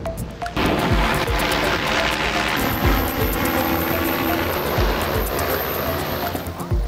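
A delivery drone flies in close and comes down to land, its loud, steady whirring buzz starting abruptly and holding strong throughout.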